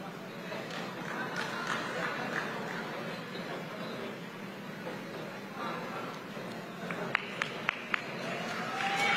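Applause from an audience at an outdoor Brazilian government ceremony in Acre, a steady diffuse wash of clapping with crowd murmur, a few sharp nearby claps standing out near the end.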